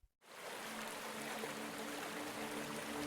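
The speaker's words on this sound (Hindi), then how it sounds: "हम एक खूबसूरत नदी पर पहुंच गए हैं जिसका पानी इतना साफ और निर्मल है" Clear river water flowing steadily in a continuous broadband rush, fairly close and alone after a brief silent start.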